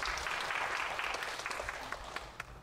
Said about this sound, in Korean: 박수 한번 해주시겠어요?